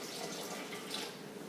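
Water poured into a bowl for sourdough bread dough, a steady close splashing stream with no talk.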